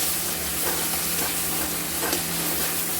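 Ground cumin, coriander, Kashmiri chilli and turmeric frying in a pan for egg and pea ghugni while being stirred, a close, steady hiss and sizzle with soft scraping from the stirring.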